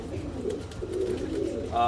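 Pigeons or doves kept on display coo softly and steadily in low, throaty rolls beneath someone talking close by.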